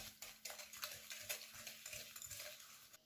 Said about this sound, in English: you crack one egg and then you add sugar. And then you mix them.